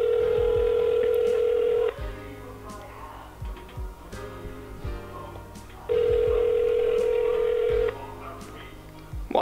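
A phone placing a call gives two long, loud, steady ringback tones separated by a stretch of quieter clicks and faint background sounds, all close and clear.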